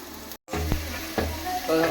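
Masala sizzles in hot oil in a pan before chicken is added, a loud close frying hiss broken by a brief gap and a few stirring scrapes, with no talk.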